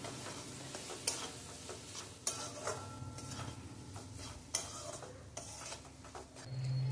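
Garam masala and red chilli powder being stirred in a cooking pan, soft sizzling under a few sharp scrapes and knocks of a spoon against the metal, no talking.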